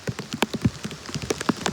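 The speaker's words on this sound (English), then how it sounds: "It's like raining at a medium level." Medium rain from Tropical Storm Debby in St. Petersburg, Florida, falls as distinct, fairly close drops tapping a surface in an uneven patter, with no talking.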